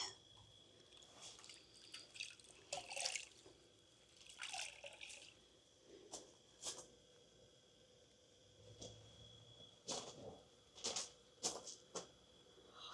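Water trickles and drips in small, irregular bursts of splashing, close by and fairly soft, with quiet pauses between the louder spills.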